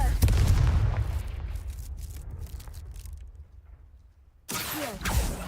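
A Confringo spell goes off in Hogwarts Legacy with a deep booming blast followed by a rumbling decay, then a sudden second burst of crackling impact near the end, with a voice heard briefly.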